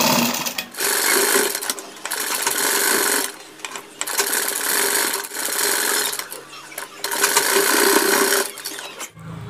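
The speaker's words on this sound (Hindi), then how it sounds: "अब हम यहाँ से सिलाई लगाते हुए ले जाएंगे" A sewing machine stitching a kurta collar runs in three rapid buzzing bursts of a few seconds each, separated by short pauses, close and fairly loud with a faint mechanical clunk at the end.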